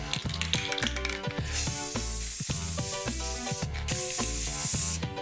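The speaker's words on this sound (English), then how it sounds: "We're going to be adding 3 layers of clear coat. Now you want your first coat to be a relatively light coat." Spray can applying a light first coat of clear coat to an iPod, heard as two long hissing bursts over background music, close and fairly loud.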